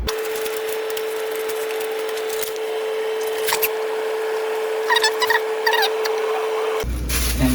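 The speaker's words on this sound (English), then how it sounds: "first, we need to cut the butter" A knife cuts through a block of butter in a home kitchen, soft scraping and several sharp clicks and taps against a board over a steady electrical hum, ending with a louder knock.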